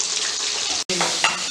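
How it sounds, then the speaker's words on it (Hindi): Fish frying in a pan for a home fish fry: a steady, close hiss of hot oil with a brief break partway through, followed by slightly sharper crackling. "जब तक मेरी मछली फ्राई हो रही है"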